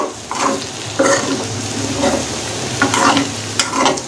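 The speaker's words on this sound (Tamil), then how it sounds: "ஸோ இதை லைட்டாக மட்டும் மிக்ஸ் பண்ணி விட்டுக்கலாம்." Potato fry being stirred in a hot pan with coconut oil, a spoon scraping and tossing in uneven bursts over a steady sizzle, close and fairly loud with no voices.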